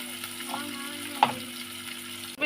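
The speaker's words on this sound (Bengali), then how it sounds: "পেঁয়াজগুলো আমি লাল করে ভেজে নেবো" Sliced onions frying in a pan until reddish brown, ahead of a hotel-style mutton kosha: a steady close sizzle with a single scrape of the spatula partway through, short and without talk.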